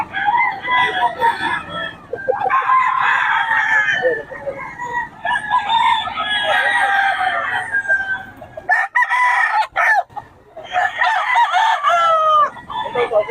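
Roosters crow loudly and repeatedly at close range in Bocaue, long drawn-out calls overlapping one another with clucking in between, while people talk in the background.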